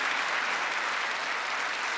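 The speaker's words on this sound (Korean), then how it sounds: "박수 세게 치세요." A congregation at a Korean Sunday worship service claps hard on the pastor's call, producing a loud, dense, continuous roar of many hands that fills the short moment without letup.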